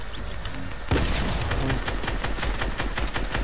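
Rapid bursts of automatic gunfire from a first-person shooter video game erupt loud and close after a quieter opening, continuing in dense, crackling volleys to the end.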